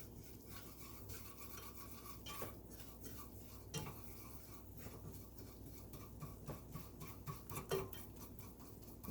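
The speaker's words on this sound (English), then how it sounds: "we're going to cook the roux so we get that starchiness, that starchy flavor out." A butter and flour roux is stirred in a pan for béchamel sauce, giving a faint, steady scraping and rubbing of a utensil against the pan with soft clicks, no voices.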